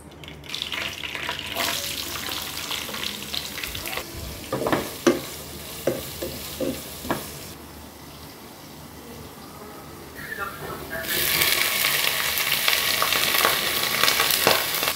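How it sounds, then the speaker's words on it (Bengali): Beef frying in a pan for achari beef, with a sizzle under a series of spatula scrapes and knocks, then a louder, steadier hissing surge near the end. A few faint voices may be heard in the background. "দেখেন আমার মাংসটা আমি ভেজে নিচ্ছি।"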